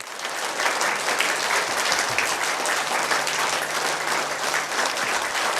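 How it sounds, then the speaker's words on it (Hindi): Sustained applause from an audience at a community gathering in a Buddhist vihara, dense and even clapping that holds steady throughout. "जोरदार तालियां"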